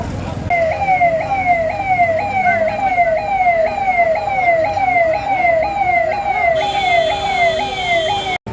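An ambulance siren wails loud and close in repeated rising sweeps, steady over road traffic rumble for several seconds before giving way to a high sustained tone near the end.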